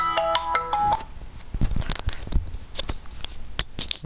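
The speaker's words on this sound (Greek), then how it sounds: "Ένα τηλέφωνο." A phone ringtone plays a short melodic run of bright electronic notes for about a second, followed by soft tapping and handling sounds as the phone is picked up.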